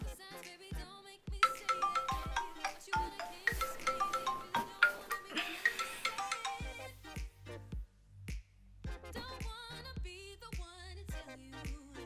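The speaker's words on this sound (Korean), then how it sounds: "저는 매일 듣는 알람 소리에도 항상 이렇게 깜짝 놀라고 일어나요." A phone alarm rings in a repeating melodic chime, loud and close, with sharp tapping clicks and low thumps mixed in.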